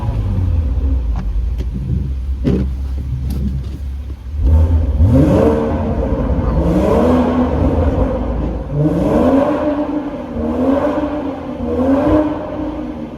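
A BMW M140i engine revs hard inside a tunnel, loud and booming, its rising pitch sweeping up repeatedly through several gear pulls over a steady low rumble.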